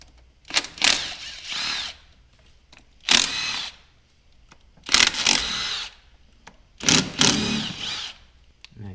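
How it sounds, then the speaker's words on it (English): A power tool with an 8mm socket backs out car engine valve cover bolts in four separate whirring bursts, close and fairly loud, with quiet gaps between each run. "Now you'll need an 8mm to remove these valve cover bolts."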